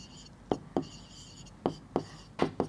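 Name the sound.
writing factors of 10 by hand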